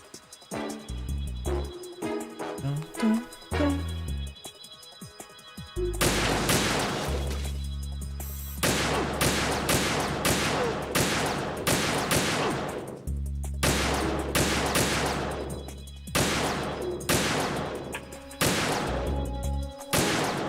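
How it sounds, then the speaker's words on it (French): Metal Gear Solid 2 game combat brings repeated loud bursts of gunfire with sharp cracking shots over a low droning score, clustered in several volleys with brief pauses between them. "Il y a toutes les balles qui passent à côté."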